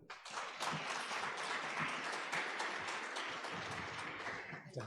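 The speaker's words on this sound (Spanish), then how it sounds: "Lo recibimos con un fuerte aplauso." An audience applauds to welcome a speaker at a talk, a sustained, dense wash of clapping from many hands that holds steady for several seconds, fairly distant and even.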